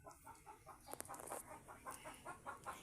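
A hen clucks repeatedly in short rhythmic bursts after laying an egg, moderately close but faint, with a sharp click partway through.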